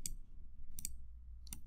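A few sharp clicks of the return key on a keyboard, close and fairly quiet, spaced out irregularly with near silence between them.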